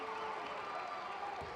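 Brief swell of cheering and clapping from a basketball crowd after a made free throw at a FIBA U20 EuroBasket quarter-final between Greece and France, steady arena noise with some talk under it.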